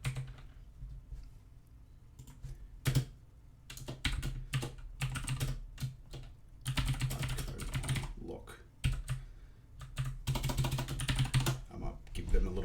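Computer keyboard being typed on in quick irregular bursts of close clicks and clatters, with short pauses between runs of keystrokes and a voice talking at times.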